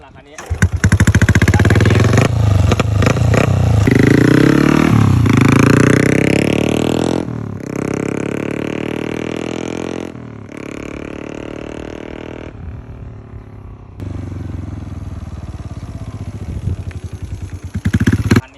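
A used Honda Wave 110i motorcycle starts and rides off, its engine revving and buzzing loudly up close before settling into a steadier ride with pitch shifts. Someone talks throughout.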